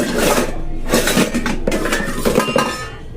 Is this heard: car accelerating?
no